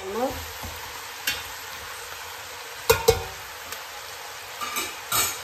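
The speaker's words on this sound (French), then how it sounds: "Mélanger à nouveau pour que le vinaigre se mélange bien avec les ingrédients." Chicken sizzles in a frying pan with vinegar, mushrooms and a head of garlic, a steady hiss broken by several sharp scrapes and clinks of stirring spread through the moment.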